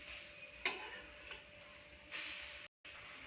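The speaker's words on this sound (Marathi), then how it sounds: "याला कमी गॅसवर छान मस्त शालो फ्राय करून घेऊया." Masala toast bread shallow frying in a pan over a low gas flame, giving a faint, steady sizzle with a couple of soft scraping stirs.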